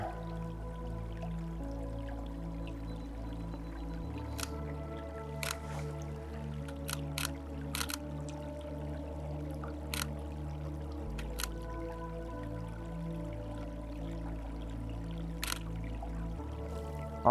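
Steady, close rush of flowing water at Stephen's Falls in Governor Dodge State Park, a continuous low roar with faint splashing and a few sharp clicks over it, no talking.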